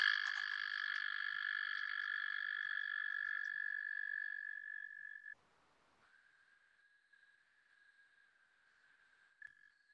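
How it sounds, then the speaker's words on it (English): A toad's long, steady, high-pitched trill, clear and sustained for about five seconds before cutting off, followed by a fainter, more distant trill from another toad. "Toads tend to do things that are trills"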